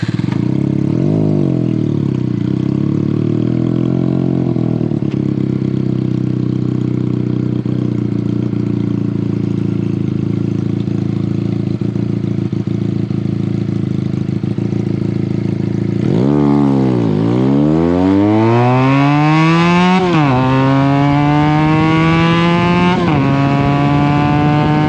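Motorcycle fitted with a larger front sprocket launching on a drag strip: a loud, steady engine drone holds for a while, then the revs dip and the bike launches, its pitch climbing sharply through successive gear shifts.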